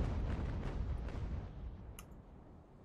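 Warship cannons fire in the age-of-sail naval battle game Ultimate Admiral Age of Sail, a heavy rumbling broadside of booms that fades out, followed by a couple of brief faint clicks.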